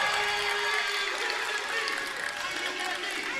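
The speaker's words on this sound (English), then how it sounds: "So Mansfield Christian's just going to clap it up." A crowd claps at a boys basketball game in a gym, a steady dense patter of many hands, moderately loud and continuous, with a faint sustained tone and crowd murmur beneath.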